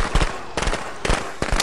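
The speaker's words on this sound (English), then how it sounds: "Oh yeah, them firecrackers." Firecrackers pop in the video game Friday the 13th, a quick series of four sharp, loud bursts over steady background noise, with no voices.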